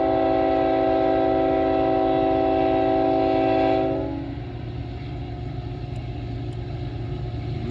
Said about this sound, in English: Looks like we got CN locomotives here